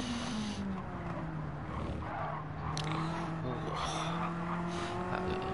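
A classic DTM race car on Tokyo Expressway South in a racing video game brushes the wall and skids, its engine droning steadily with a brief scraping burst and tire noise, while commentary runs faintly underneath.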